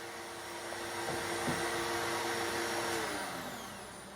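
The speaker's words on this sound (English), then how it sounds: "Now I'll do these cutouts in about 6 stages, by raising the router a couple of millimeters at a time." Wood router running a cutout on an end-grain chopping board, a steady high-pitched whine that rises and holds for a few seconds, then eases slightly, with no talking.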